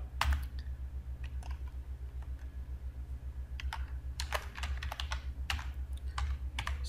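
Keys clatter on a computer keyboard as a username is typed, quick irregular taps and clicks over a steady low hum, with no talking.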